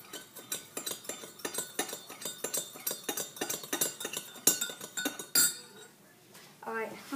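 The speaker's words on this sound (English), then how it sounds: "Then you're gonna need a spoon, stir it up." A spoon stirs sugar into hot Earl Grey tea in a cup, making rapid, rhythmic metallic clinks against the sides that are close and bright, ending with a few louder taps.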